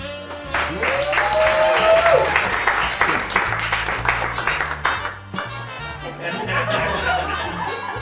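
A live audience at a close-up magic show bursts into loud applause after a card trick, clapping mixed with laughter and chuckles that fade into scattered claps and murmurs.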